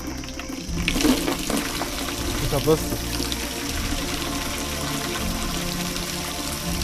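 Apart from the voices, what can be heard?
water running like a shower at the ranch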